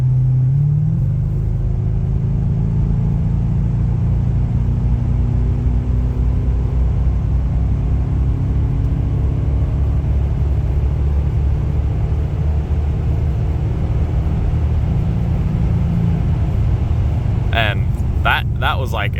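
A Lexus LS400 fitted with a Trans-Go shift kit drives along under steady, loud engine and road rumble. The engine pitch climbs slowly through the run, with a brief clatter near the end.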